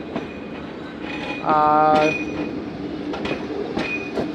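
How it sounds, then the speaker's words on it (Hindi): The Musapak shuttle train running from Multan to Dera Ghazi Khan pulls into a platform with a rumbling roll, a brief loud horn-like tonal blast in the middle, and faint squeals and clacks around it. "पहली बार हमारी ट्रेन को अब प्लेटफार्म पर रिसीव किया गया है"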